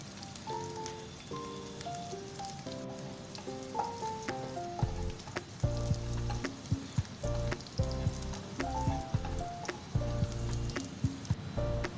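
Five or six garlic cloves, sliced lengthwise, sizzling in hot oil in a pan that was just used to fry anchovies, a steady crackling hiss under prominent background music.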